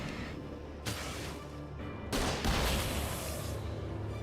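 A flare gun fires in the video game Alan Wake with loud, sharp blasts. Two or three bursts crack out amid a dense, roaring background of combat noise.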